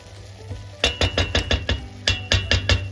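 A spoon stirs fava beans with onion and water in a pot, knocking against the pot in a quick run of close, ringing clinks under a low steady hum.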